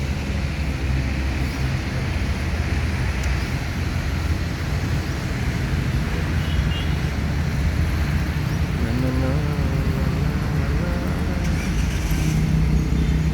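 A tour bus passes along a road amid a continuous rumble of traffic, with engine drone and road noise swelling and fading while people talk over it.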